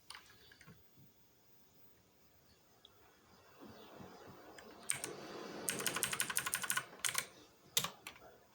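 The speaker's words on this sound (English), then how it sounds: "That's why I'm hitting keys." Fingers tap away at a computer keyboard: a few scattered keystrokes first, then a quicker flurry of clicks near the end, close up, with no one speaking.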